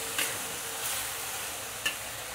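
Eggplant being stirred into garlic sauce in a wok, a soft steady sizzle broken by a few sharp scraping clinks of the utensil against the pan.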